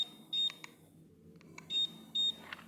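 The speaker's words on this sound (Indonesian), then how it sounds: "Kita cek buzzer." Keyless system buzzer on a Honda Vario 160 scooter, sounding as several short, sharp, high beeps in an irregular pattern, with quiet gaps between them and a low hum underneath.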